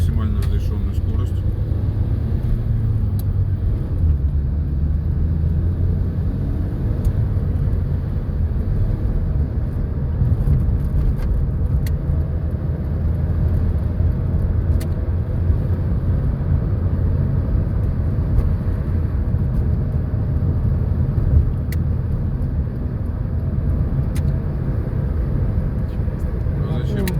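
A car gathering speed up to the limit on a road during a driving lesson, a steady low engine and road rumble running throughout, up close, with voices talking over it.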